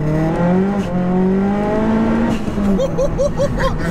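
A Seat Leon Cupra R with a big turbo, fully forged engine and around 480 bhp, pulling hard in second gear: a loud, rising engine drone heard from inside the car, then a quick series of sharp chirping gear-change or turbo pulses near the end.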